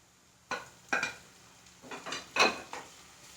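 Tomatoes go into a pan of frying onions for Kerala-style chicken perattu and are stirred, giving several distinct scraping clanks of a utensil against the pan over a soft sizzle, close and without talk.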